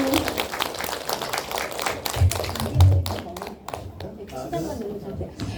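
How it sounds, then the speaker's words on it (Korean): An audience applauds a singing MC as he introduces his songs, bursts of clapping heard through busy chatter and talk. "박수 부탁드리겠습니다."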